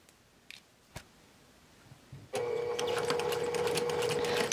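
Sewing machine stitching a composition book cover: after a few faint taps, a loud, steady run of stitching starts and carries on close and unbroken to the end.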